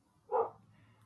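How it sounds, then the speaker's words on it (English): A dog gives a single short bark, faint and somewhat distant, in an indoor room with a low background hum. "You have to excuse my dog is barking."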